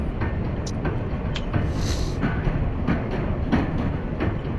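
An R160A subway train on the M line runs toward Metropolitan Avenue in the OpenBVE train simulator. It gives a steady low rumble of running gear, with a few faint clicks and squeaks riding on top.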